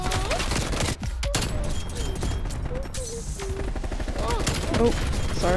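Rapid, dense gunfire fills the Cold War multiplayer match on the Slums map, with sustained loud bursts and overlapping shots, while players talk over the shooting.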